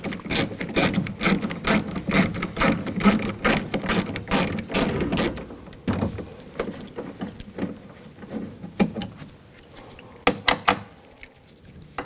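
A socket ratchet clicks rapidly and loudly while screws are backed out of a 2000–2006 BMW X5 front door panel, bursts of dense ratcheting that thin into sparser clicks and pauses toward the end.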